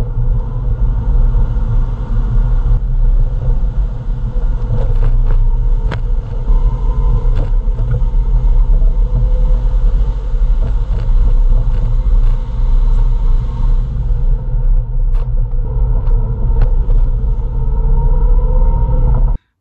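Steady broadband road rumble and engine drone from a Mercedes Sprinter van on the move, captured from beneath the chassis beside new Monroe Magnum shocks, with occasional thumps and clatter from bumps in the road and no voices.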